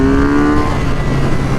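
Engine of a tuned 2023 BMW R nineT motorcycle running at a loud, close, steady drone with an even tone that dips slightly in pitch, no talking.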